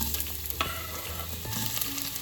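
Chopped onions frying in about two teaspoons of hot oil for chicken curry, a steady close sizzle with a few sharp stirring scrapes against the pan.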